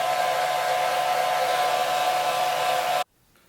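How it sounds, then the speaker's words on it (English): A hair dryer blows on latex makeup horns, a steady loud whirring hum held for about three seconds before it cuts off abruptly into near silence. "I'm gonna hit this with the dryer real quick."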